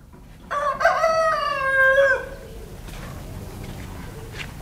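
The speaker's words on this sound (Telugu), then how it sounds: "మన మెట్ట కోళ్ళు అండి" A native country rooster gives one loud, drawn-out crow close by, rising and then trailing off, followed by quiet farmyard background.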